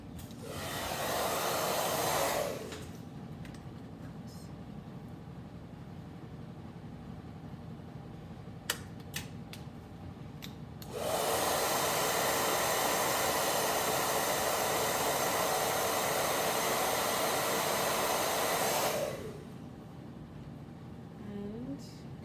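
A blow dryer roars in two loud bursts with a quieter stretch between, a few faint clicks and handling noises in the gap.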